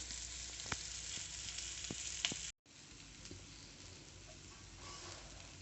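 Fish fry on low heat hisses and crackles steadily in a pan just after being flipped, with scattered sharper pops and a brief dropout partway through, heard alone without speech.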